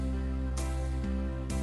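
Keyboard auto-accompaniment on an Easy 4/4 rhythm pattern slowed to tempo 65, held chords with sparse drum hits spaced nearly a second apart, steady and unaccompanied by speech.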